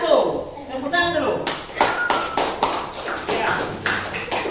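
A classroom group claps in a few scattered bursts of sharp, uneven claps, with people talking over and between them.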